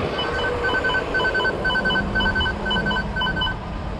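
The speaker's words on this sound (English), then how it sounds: "it has like a small alarm when you like try to move it" A Lime rental moped's anti-theft alarm beeps in a fast, steady chain of short electronic tones on a New York City street, loud over constant traffic rumble.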